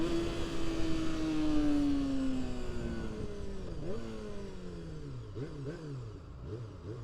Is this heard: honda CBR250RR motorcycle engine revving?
yes